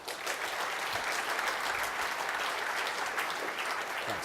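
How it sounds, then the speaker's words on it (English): Sustained applause from a presentation audience at a Wii U reveal event, a dense steady roar of clapping that carries evenly for several seconds. "So, round of applause for Jason and Jacob."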